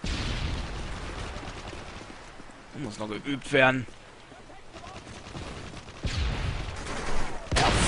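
Sniper rifle fire in Call of Duty Modern Warfare 3 comes as a few sharp, loud shots and crackling bursts midway and near the end, with someone speaking German briefly over the game.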